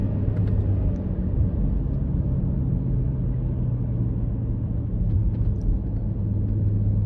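A BMW X5M's exhaust rumbling as the driver lifts off the throttle, a steady deep drone from inside the cabin that holds evenly throughout, with no voices.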